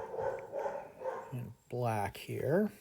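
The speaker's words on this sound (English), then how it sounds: "if you can hear the dog barking in the background" A dog barks in the background during a chemistry lecture, a few sharp yaps near the end of the clip following a stretch of spoken talk.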